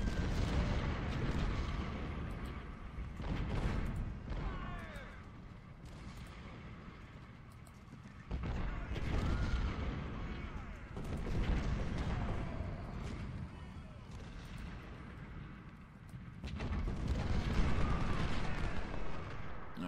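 Troops firing in the Civil War strategy game Ultimate General: Civil War: repeated rolling volleys of musket and cannon fire, booming in waves with brief lulls between, heard at a distance throughout.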